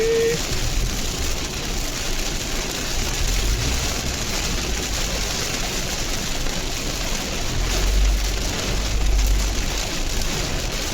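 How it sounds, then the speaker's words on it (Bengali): Heavy rain drums steadily on a car moving along a road, a dense, loud hiss with low road rumble underneath, unbroken throughout. "ওরে বৃষ্টি রে, ওরে বৃষ্টি সহি দেয় না কিছু।"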